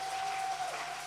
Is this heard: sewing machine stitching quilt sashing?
no